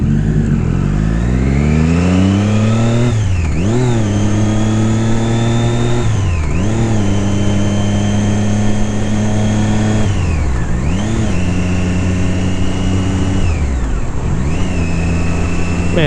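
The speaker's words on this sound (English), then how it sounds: "My bike does not sound cool." A Triumph Daytona 675 R motorcycle engine revs and shifts through the gears during a ride, loud and close, with the pitch climbing steadily and then dropping sharply at each of four gear changes.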